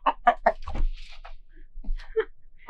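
Two roosters cluck near a wooden structure being built at a mountain homestead, giving a run of short, close clucks, then a quieter pause and a few more scattered clucks.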